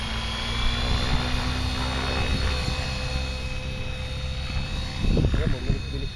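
A new motor on a Copter X 600E Pro RC helicopter whirs steadily with a high-pitched drone, a sharper burst of rotor noise rising near the end.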